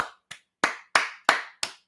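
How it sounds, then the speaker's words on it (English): Six sharp hand claps in a quick uneven run, close and clear, in an otherwise quiet moment. "Hand claps to you."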